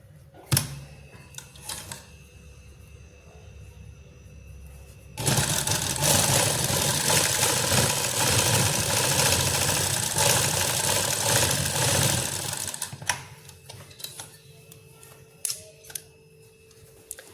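An electric sewing machine stitches a belt onto a salwar in one steady, fast-running burst of about seven seconds, with quieter fabric handling and light clicks before and after.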